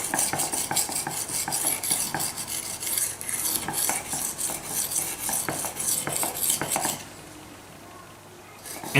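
Knife blade drawn back and forth across an L'Ariégeoise Pyrenees whetstone, a rhythmic close scraping of repeated strokes that stops near the end.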